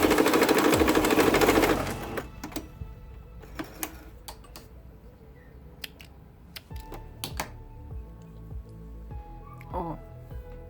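An industrial straight-stitch sewing machine hemming knit fabric, running in a loud burst at first, then falling to quieter clicks and taps as the fabric is adjusted, with someone speaking intermittently.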